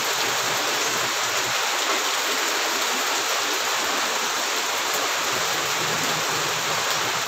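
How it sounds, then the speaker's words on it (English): Heavy rain pours down at a house in a dense, constant broadband hiss, loud and close, unbroken throughout with no voices. "It's raining, man."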